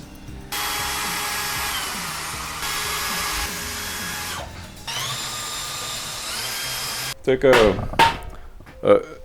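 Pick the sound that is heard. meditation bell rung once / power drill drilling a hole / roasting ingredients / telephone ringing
power drill drilling a hole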